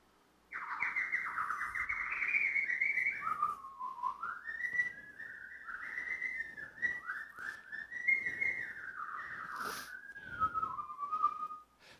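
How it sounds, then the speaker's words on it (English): Synthetic canary song generated by a low-dimensional mathematical model of the syrinx: one long, loud, continuous whistled phrase that slides and warbles up and down, with rapid trills and a brief bright chirp near the end, heard alone. "a very low-dimensional mathematical model of how the syrinx works, generated synthetic song"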